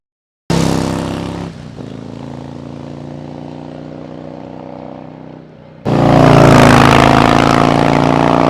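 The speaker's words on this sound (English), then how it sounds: "First, Harley-Davidson's exhaust." A 2021 Harley-Davidson Road Glide CVO with stock exhaust starts with a sudden loud engine drone and holds a steady rumble. The sound dips briefly, then surges louder and fuller as the bike rolls close by.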